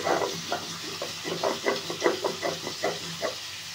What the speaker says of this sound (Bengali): এদিকে সবজিটা ভাজা হচ্ছে।